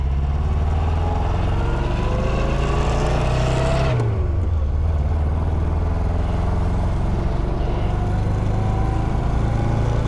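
An Austin Healey British sports car engine drones steadily while driving, rising in pitch, then dropping sharply at a gear change before pulling on again under constant road and wind rush.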